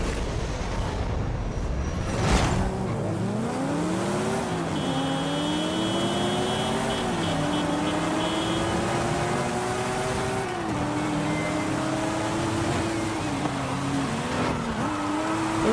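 A tuned car's engine in Forza Horizon 5 revs and climbs through gears, loud and close, with repeated rising pitch sweeps after each shift, a whoosh near the start, and faint tire noise beneath.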